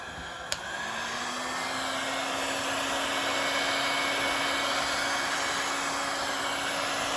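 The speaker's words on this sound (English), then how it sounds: "now I'm gonna heat it with my heat gun" A heat gun blowing hot air onto the glass of a Motorola E5 Plus phone during repair, a steady close whooshing roar with a faint rising whine after a brief click as it switches on.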